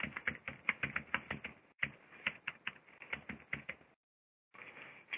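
Typing on a computer keyboard while adding a comment in Google Docs, a steady patter of close, clicky keystrokes that stops briefly twice, once with a short gap and once near the end before resuming.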